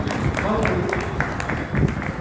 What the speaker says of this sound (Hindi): ताली बजा के स्वागत करते हैं माता जी